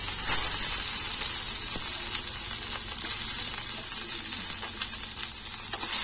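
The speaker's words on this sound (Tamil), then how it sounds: "நல்லா வதக்கி விட்டுக்கலாம் வெங்காயம் நல்லா வதங்கட்டும்" Steady, bright sizzling of onions sautéing in hot oil with curry leaves, continuous and close, with faint crackles and no talking.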